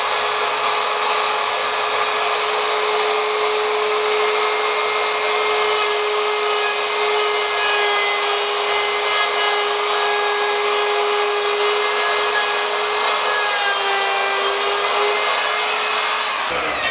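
A Ryobi router cutting a channel in wood gives a steady, loud whine with a constant high tone, running without pause throughout.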